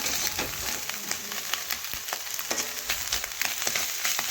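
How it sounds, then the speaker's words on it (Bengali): Fresh fish frying in a pan, turned over with the first side done, giving a steady, moderately loud sizzle with scattered crackles and small pops throughout, no voices. "তো আমি মাছগুলি ভালোভাবে এক পাশ হয়ে যাওয়ার পরে উল্টে নিয়েছি, আর এক পাশ ভাজার জন্য অপেক্ষা করছি"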